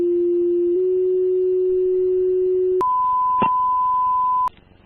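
A fire department radio dispatch retone alert for a high hazard location, a Home Depot commercial central station alarm: a loud steady low tone holds for nearly three seconds, then jumps to a higher sustained tone before cutting off sharply.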